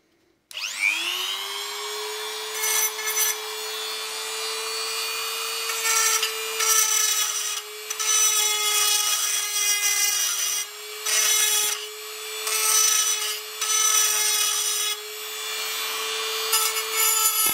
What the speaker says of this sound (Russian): И сейчас попробуем нашей шарошкой снять этот заусенец.